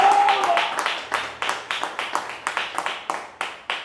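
Congregation clapping in a church, a steady run of sharp, fairly loud hand claps in a regular rhythm, with a voice briefly heard at the start.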